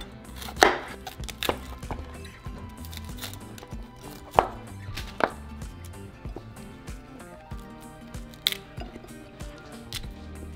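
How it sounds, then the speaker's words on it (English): A kitchen knife slices through a head of cauliflower, giving a series of irregular crisp cuts and thunks against a cutting board, moderately quiet and close, with small rustles between strokes. "So next, our cauliflower. So I'm just going to cut it in half."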